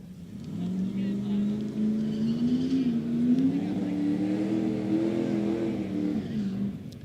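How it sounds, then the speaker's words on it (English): Small-tire hot rod race cars at a drag racing event, an engine note rising and holding steady for several seconds, loud and fairly close, with a speaker talking over it. "All right, so a couple of small tire hot rods."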